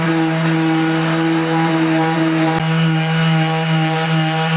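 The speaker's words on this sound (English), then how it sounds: "So we've got the table saw here, and then the blade was at an angle." A table saw with its blade tilted cuts an angled bevel in wood for a subwoofer box, a loud steady whine with strong hum, running continuously and up close.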